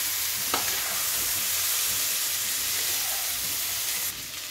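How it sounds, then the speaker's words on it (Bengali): Bengali-style fish oil chachchari with fish roe is stirred in a hot pan, giving a steady, close, loud frying hiss throughout with a brief scrape near the start, and no voices. "এবার সবগুলোকে আমি একসঙ্গে ভালো করে কষিয়ে নিচ্ছি।"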